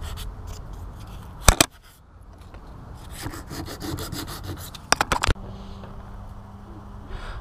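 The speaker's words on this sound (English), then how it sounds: "So I'm gonna scuff these all up quickly in this area" Scuffing the body panels of a Toyota Supra drift project car by hand before primer: a continuous dry rubbing and scraping, close and steady, broken by two sharp knocks, with no voices.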